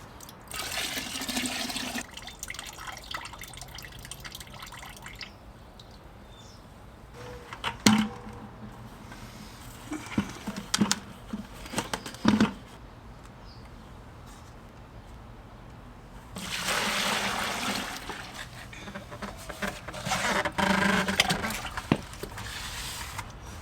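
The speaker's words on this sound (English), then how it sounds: "So I'm just going to pour off that clear water now so that I have the thicker settled clay at the bottom" Clear water is poured off settled wild clay during wet processing, with bursts of close splashing and gurgling pours at the start and again later, separated by quieter stretches broken by sharp knocks and clunks.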